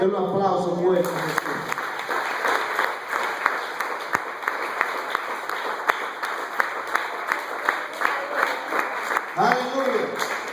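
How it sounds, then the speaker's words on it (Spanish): A church congregation breaks into steady, rhythmic applause for nearly ten seconds, sandwiched between short bursts of a speaker's voice at the start and end. "Den un aplauso fuerte a Jesús."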